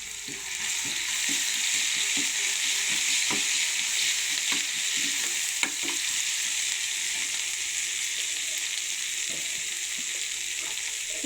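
Spices and chili powder sizzle steadily in a hot pan while a spoon stirs them, with soft scraping clicks over a constant frying hiss.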